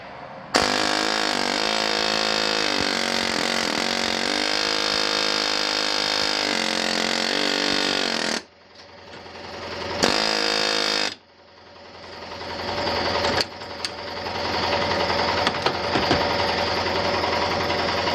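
A Mayhew Tools 32029 pneumatic bolt breaker runs on compressed air above its rated 90 psi, with a loud continuous buzzing hammer. It cuts out abruptly, restarts in short bursts and then runs again with a rising whine.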